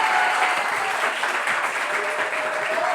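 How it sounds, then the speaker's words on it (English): An audience applauding a school district superintendent, a dense, steady wash of clapping from many hands that holds throughout without pause. "Everybody, please give a huge round of applause for Dr."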